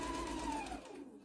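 A sewing machine stitches across a tea towel in a steady, close whirring hum that fades out toward the end of the short burst.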